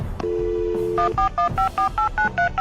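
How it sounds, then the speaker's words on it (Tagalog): Telephone dialing tones from a phone in the Minecraft game, with a steady dial tone followed by a rapid series of eight short, clear keypad beeps in an even rhythm, loud and close with no talk. "Magdadial muna tayo dito."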